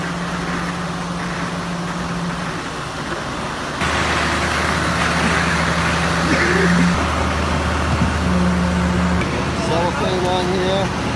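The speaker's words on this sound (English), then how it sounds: "now that the noisy pump truck and cement truck is gone" A concrete pump truck and cement truck run on a house-building site during a pour, a loud continuous diesel engine drone with shifting hums and a rise in intensity partway through.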